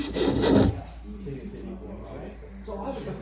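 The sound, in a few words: sharpening a hand plane blade on a sharpening stone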